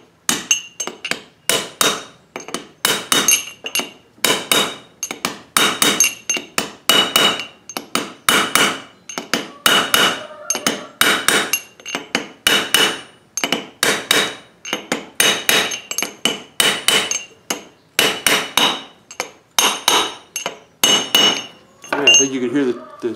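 A hammer taps a new bearing into the front axle of a New Holland TC33D tractor with many quick, sharp metallic strikes. The strikes come in irregular bursts, close and ringing, and the pitch changes slightly toward the end.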